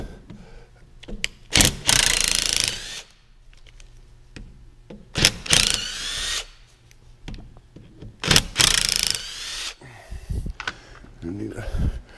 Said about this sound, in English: Oh, my drill, my old one.